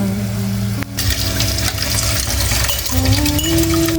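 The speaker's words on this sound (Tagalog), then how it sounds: "ibabad lang natin or hugasan natin yung gulay sa asin" Running water from a tap fills a container for washing vegetables in salt while cooking udon with egg, a steady close rush with a faint clink, no talking.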